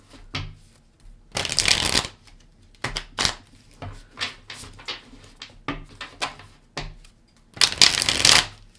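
Tarot cards shuffled by hand, in bursts of crisp riffling and shorter flicks and taps, loud and close, with brief quiet gaps between rounds.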